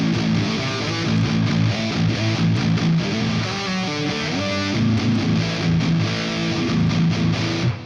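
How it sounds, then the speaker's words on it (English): An electric guitar played through a NAM amp model with reverb rings out in sustained, overdriven chords and melodic notes that blur into a washy ambient tail, loud and continuous with no talking. "So that sounds pretty good with just the reverb on there"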